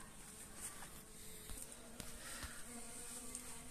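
A steady, faint buzzing of honeybees around a hive box with an entrance hole, a continuous insect drone with a few soft clicks and knocks, no voices.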